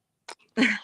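A single short sneeze, close and fairly loud, preceded by a quick sharp intake of breath.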